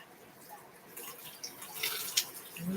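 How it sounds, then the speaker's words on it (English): A kitchen tap runs water into a jar for rinsing, giving a soft, steady hiss and splash that grows slightly louder as it fills. "Turn on the water."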